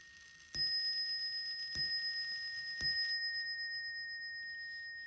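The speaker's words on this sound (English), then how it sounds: "Test the bell." Bell of a 190-year-old clock struck three times at slow, even intervals, each strike ringing bright and close with a clear metallic tone that decays slowly in a quiet room.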